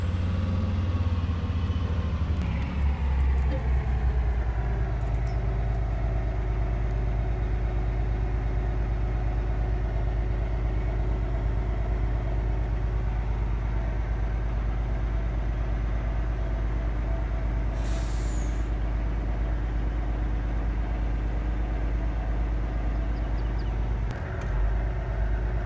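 A grain truck with dual hoppers loaded with corn backs up in Farming Simulator 22, its engine droning steadily and loudly throughout with a low idling rumble and no talk.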